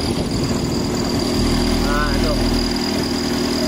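Toyota AE111 BlackTop engine fitted with individual throttle bodies idling steadily with a low, even hum, someone talking over it.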